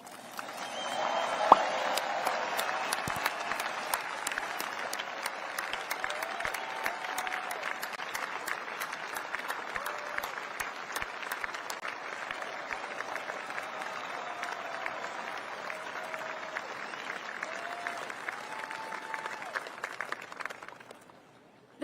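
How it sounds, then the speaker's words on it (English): Sustained audience applause fills the hall at the Northrop Grumman unveiling of the B-21 Raider, a dense, steady clapping from a large crowd that holds for about twenty seconds before fading out. "please join me in a round of applause for our team"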